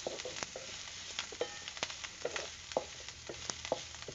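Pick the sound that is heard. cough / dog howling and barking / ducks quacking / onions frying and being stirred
onions frying and being stirred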